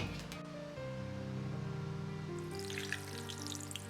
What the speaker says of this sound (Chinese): 放入适量的葱油，把锅像这样转一下，也叫润锅